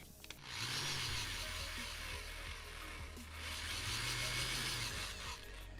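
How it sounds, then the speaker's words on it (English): A power drill drilling into a 1/100 scale resin model kit whirs in two bursts, each rising and falling in pitch, with grinding and scraping noise between them. "I'll bring it the power drill."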